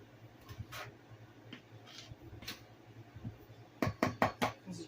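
Homemade cleaner clatters softly as it is stirred in its container, followed by a quick burst of sharp shaking rattles near the end, close and quiet.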